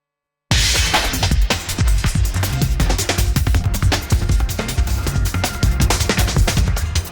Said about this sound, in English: So this is from an Amen break.